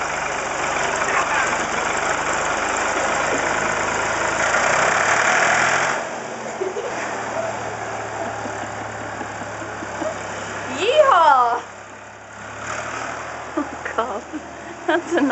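A 1965 Ford 2000 tractor engine running steadily with a rough, knocking idle, heard loud and close for several seconds before settling lower under people talking nearby.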